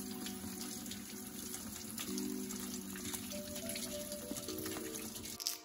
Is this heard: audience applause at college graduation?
no